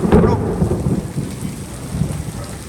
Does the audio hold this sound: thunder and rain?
yes